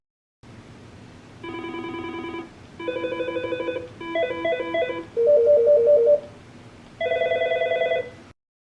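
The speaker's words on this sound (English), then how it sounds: "I'll use the up and down arrow keys to cycle through the different ringtones that are available." A series of electronic ringtones from an Aastra 6735i/6737i office desk phone, each short melodic pattern playing briefly before switching to the next, with brief gaps between them; no talking.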